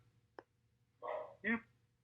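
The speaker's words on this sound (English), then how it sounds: "my dog is just not shutting up" A pet dog barks indoors behind a podcast recording: a faint click, then two short, muffled barks in quick succession, fairly quiet and slightly distant, with no talking.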